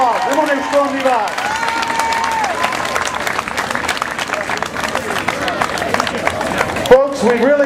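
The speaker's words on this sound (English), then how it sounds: "How about one more big round of applause for our weightlifter?" An outdoor crowd at a Basque festival applauds weightlifters with sustained dense clapping and scattered cheers, while an announcer's amplified voice carries over the top near the start and end.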